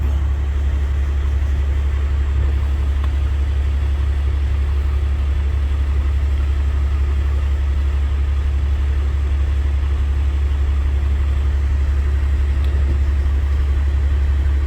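A 1971 Chevrolet C20 pickup truck idles after a cold start, giving off a loud, steady low rumble that holds unchanged throughout.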